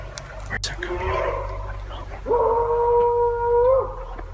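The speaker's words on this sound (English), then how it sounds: "And then came the vocal noise, a guttural, almost inhuman howl. It was deep, aggressive," A deep, guttural, almost inhuman howl rings out in the dark around a night campsite, rising into a long sustained wail near the end over a low steady hum.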